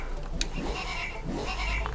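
Goat bleating in Goat Simulator 3, a couple of nasal, wavering bleats up close over a steady game background.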